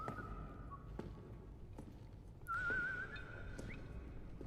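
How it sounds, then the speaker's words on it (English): A man whistles a short wavering tune in a scene from the horror film Hostel, faint and thin over a dark, rumbling soundtrack with occasional soft knocks, brief and fairly distant. "He's whistling."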